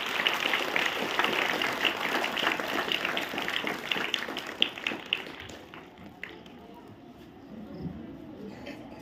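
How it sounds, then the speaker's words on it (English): An audience claps loudly for an anchor at a children's school event in India, dense rapid applause that thins and fades out over several seconds, with voices faintly present beneath it. "Once again, clapping loudly for anchor."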